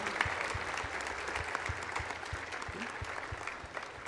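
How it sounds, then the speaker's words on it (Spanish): A conference audience at a human rights talk applauds Dr. Tatiana, steady dense clapping from many hands that stays even for the whole stretch, moderately distant. "Fuertes los aplausos para la doctora Tatiana."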